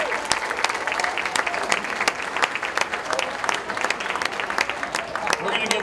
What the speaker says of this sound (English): I want you to give another round of applause for Joe Barlow on the drums back there